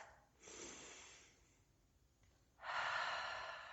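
A person takes slow, audible breaths during a yoga stretch: a soft inhale, a quiet pause, then a louder, longer breath close to the listener.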